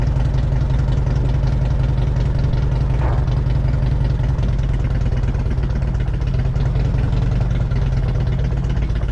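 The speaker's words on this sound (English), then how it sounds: "That's the sound of Harley Davidson." A Harley-Davidson motorcycle with a Stage 3 kit idles loudly and steadily up close, a deep rumbling throb that holds constant throughout with no voices.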